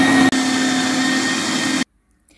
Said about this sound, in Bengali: তো এই মাংসটা এই মেশিনের সাহায্যে আমি কিমা তৈরি করে নিব